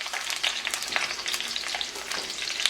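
Onion added to a hot pot for Caribbean pepper pork, giving a steady, close sizzle with light stirring crackle throughout, no talking.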